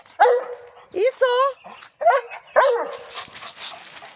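A 4.5-year-old male Central Asian Shepherd dog gives several loud, close, short barks and yelping, talkative vocal calls in quick bursts, then fades to quieter background noise.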